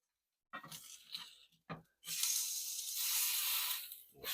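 Homemade hot breakfast pork sausage patty frying in a pan with no added oil: a few short crackles, then a loud, steady sizzle that fills the background.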